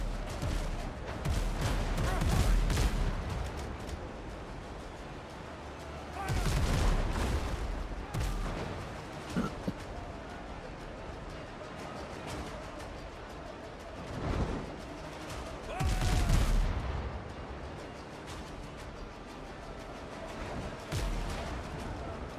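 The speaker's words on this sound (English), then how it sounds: "There, the man had time for a song before we get right back to shooting." Gunfire and cannon blasts in a pirate ship video game, loud booming bursts recurring every few seconds over a steady din of battle.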